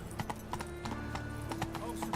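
Horse hooves clop down stairs in The Witcher 3, a steady run of sharp, close hoofbeats with faint game ambience under them and no talk.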